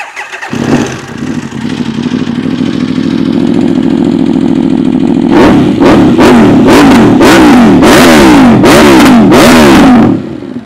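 A loud, close 2014 Aprilia RSV4 Factory V4 sport motorcycle with Akrapovic exhaust idles steadily, then revs repeatedly in sharp bursts, rising and falling several times.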